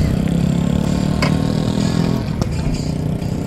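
A motorcycle engine idles and revs at close range on a mountain roadside stop along Marilaque Road near Kilometer 90, a loud, continuous mechanical drone with brief clattering spikes and a slight rise near the end.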